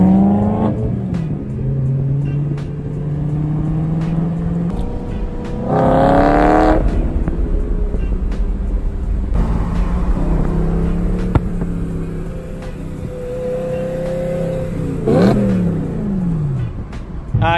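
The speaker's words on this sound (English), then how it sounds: "Rev battle between the E46 and E92" A BMW E92 M3 and an E46, both manual cars with muffler deletes, rev hard in turns, engines rising and falling loudly with sharp climbs to high revs, close by and without talk.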